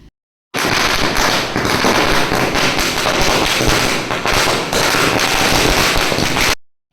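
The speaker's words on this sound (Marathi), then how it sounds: "आता शेवट म्हणजे फटाके आता इथे दोन हजाराची साहेबांनी माळ आणले तर ती वाजवायची आहे" A long string of about two thousand firecrackers bursts during Diwali Lakshmi Puja in rapid, dense crackling for several seconds, loud and close, then stops abruptly.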